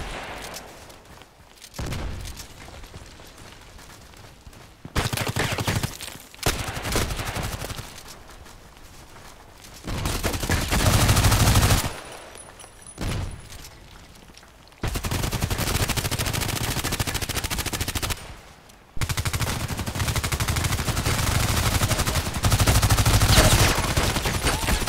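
Gunfire from the shooter game Contract Wars comes in loud bursts of automatic fire and single shots, with quieter gaps of footsteps and ambient game noise between them.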